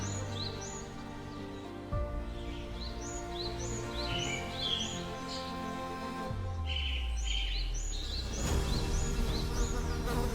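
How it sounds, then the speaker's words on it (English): Flies buzz and swarm around a carcass in a Congo forest, a steady close insect drone with whining passes, under low sustained music and scattered bird chirps. "The buzzing began, growing louder. Flies had discovered the motionless body."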